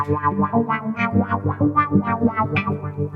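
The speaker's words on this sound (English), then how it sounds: "There's a wah pedal if you like." Strummed acoustic guitar run through a wah pedal, each chord sweeping up and down in a rhythmic, vocal-like wah, loud and close.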